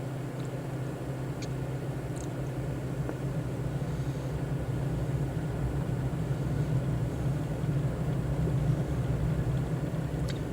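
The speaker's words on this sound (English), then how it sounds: "We're going to give us full power. Kind of wait, then we're going to let go. Let it roll down the runway" A simulated airplane runs at full power down a runway for takeoff in Microsoft Flight Simulator, a steady, continuous engine roar that holds even throughout, with no voices.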